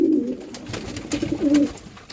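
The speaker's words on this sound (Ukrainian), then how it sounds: "цей темний темний голуб з цією темною голубочкою" Dark-coloured domestic pigeons coo close by, a pair of low soft rolling calls at the start and again near the end, with quieter bird sounds and shuffling between them.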